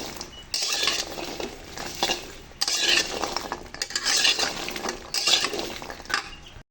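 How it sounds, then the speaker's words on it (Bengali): Jackfruit seeds roast in a pan, stirred with a metal spatula that rasps and clatters in repeated bursts of a second or so, separated by short pauses, loud and close with faint underlying frying. "এটা ভাজা হয়ে আসলে কিছুটা এভাবে কালো হয়ে আসবে। চৌকাটা একটু ভালো করে ভেজে নিতে হবে।"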